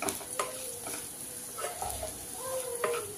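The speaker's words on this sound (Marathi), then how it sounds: "10 ते 20 सेकंद याच्यामध्ये आपल्याला मसाले भाजून घ्यायचे आहेत।" Ground spices (red chilli powder, turmeric and salt) roasting in a pan for a wild kadi modi flower vegetable dish, with a soft steady sizzle and intermittent spoon scrapes and stirs, close and fairly quiet.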